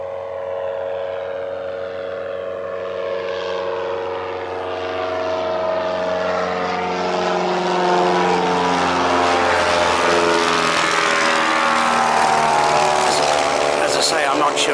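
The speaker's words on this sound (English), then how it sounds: "Now, one aircraft's taken off. Now it's his turn to take off." A propeller-driven airplane takes off from the Mochras airfield, its loud, close engine drone holding strong tones that swell and shift upward as power builds through the run.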